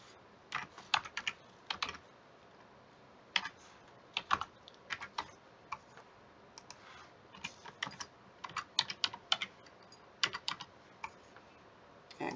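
Someone types on a computer keyboard to log in, tapping keys close by in irregular short bursts with brief pauses, and no one speaks.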